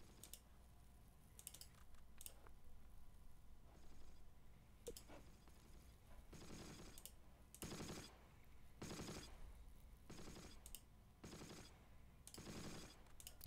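Machine gun fire in the Close Combat: Battle for Caen strategy game comes as short, sharp bursts of rapid shots, several clusters spread over the clip. The bursts are fairly faint against a quiet background, with a few isolated clicks between them.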